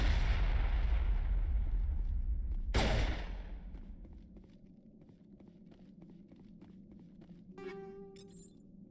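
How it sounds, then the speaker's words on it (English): Gunfire against an enemy in Mass Effect Legendary Edition: a loud sustained burst of shooting with a sharp blast near the three-second mark, then quieter scattered shots and game sounds, with no talk. "Guess I have to shoot this thing."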